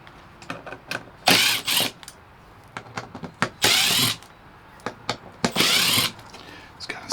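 A power driver spins T20 Torx bolts out of a Ram TRX truck tail light in three short, loud mechanical whirring bursts, separated by quieter clicks and handling noises.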